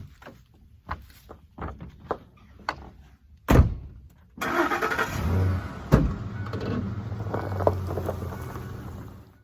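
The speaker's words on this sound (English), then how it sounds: "I'm gonna hop in the truck and head down the road where we have some rough cut lumber stacked" A truck starts up with a door thunk and drives off along a rural road toward a rough-cut lumber pile, its engine rumbling steadily for several seconds after some clatter and brief handling noises.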